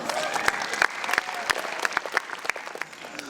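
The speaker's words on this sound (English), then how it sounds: "Round of applause for Brandon." Lively audience applause fills a room at a Stanford student comedy show, with dense overlapping claps and a few louder sharp ones. Scattered whoops and crowd noise rise among the claps.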